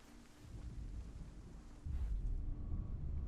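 Steady rain and low rumbling thunder fill a gloomy blue world in Hellblade: Senua's Sacrifice, the rumble swelling louder partway through, with no voices.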